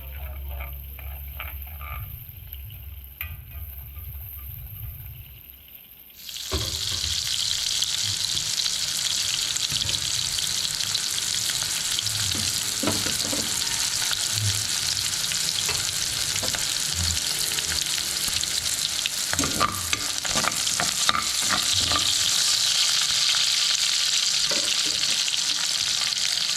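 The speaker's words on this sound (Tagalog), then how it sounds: "Ayan lang natin mag-golden brown na natin bawang." Garlic fries golden brown in a pan for chicken adobo, a loud, steady close sizzle with stirring scrapes that begins abruptly after a quieter opening of a few seconds and continues without talk.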